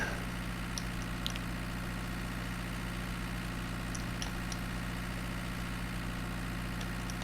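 Tractor engine idling in Farming Simulator 19, a steady low mechanical hum with constant vibration throughout, alone with a few faint high clicks.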